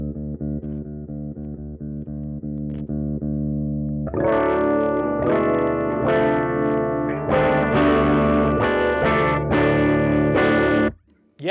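Electric guitar played through a Peavey Studio Pro 50 1x12 combo amp with its saturation control engaged, a sustained chord followed by a series of loud, thick, distorted strummed chords ringing out before cutting off.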